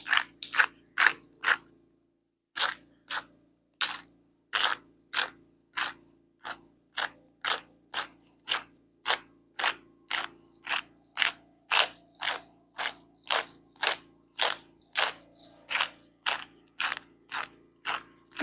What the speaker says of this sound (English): my Italian herb grinder that I just love. So I'll be grinding here for a minute